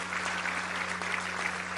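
Steady crowd applause at a hospital inauguration in La Paz, a dense, even clapping that fills the short stretch with no pauses.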